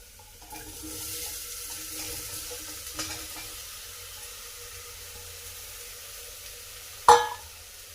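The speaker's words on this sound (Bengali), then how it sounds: "এবার যে তোরাইগুলো আমরা কেটে রেখেছিলাম সেগুলো ঢেলে দেবো" Chopped ridge gourd hits hot oil already seasoned with cumin, asafoetida and onion in a pan, giving a steady broadband sizzle that runs through the whole stretch, with a sharp louder burst of crackle near the end.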